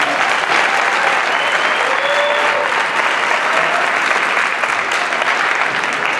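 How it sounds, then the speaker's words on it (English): A large audience applauds, with loud, steady, dense clapping that holds at full strength for the whole stretch. "Give these guys a big round of applause."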